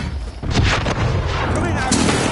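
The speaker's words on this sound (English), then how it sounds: "Enemy precision airstrike. Take cover." Enemy precision airstrike explosions in a military shooter game boom and rumble loudly and continuously, mixed with gunfire and heavy in-game radio voice chatter.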